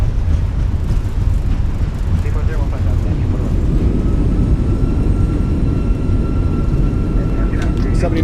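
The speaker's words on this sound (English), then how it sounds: "Goes down gently, reversers are out, decelerating, maintain center line." A JetBlue Airbus A320 decelerates on landing at Westchester with thrust reversers deployed, a loud, steady broadband roar heard from the cockpit that holds constant throughout, with light cockpit noises over it.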